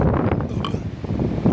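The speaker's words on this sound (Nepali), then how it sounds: "हावा यस्तो चलेको छ क्या है," Strong wind blows on a mountain trek in the morning, buffeting the microphone as a steady, loud, low rumble with a few brief gusts and light clinks.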